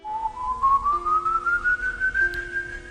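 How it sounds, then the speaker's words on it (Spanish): A single eerie whistle in an Appalachian forest, a thin pure tone that slides slowly upward in pitch over three seconds, soft and steady against a quiet, faintly humming background. "empiezas a escuchar silbidos"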